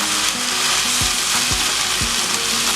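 Tomato and tomato paste sizzle and fry steadily in a pan, with a few soft scraping strokes as they are stirred, close and continuous with no talking.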